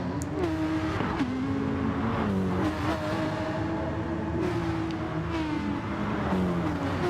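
Gr.3 race cars in Gran Turismo on the Nordschleife, engines droning steadily with shifting revs and pitch as several cars pass through corners, continuous and fairly loud without talk.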